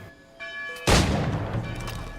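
A single distant gunshot in Assassin's Creed 3 Remastered booms out after a soft sustained tone, leaving a long rumbling, echoing tail.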